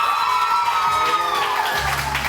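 A studio audience on a Pakistani morning show cheers and applauds, loud, dense crowd noise with whoops and shouts held steady throughout, while a low tone enters near the end.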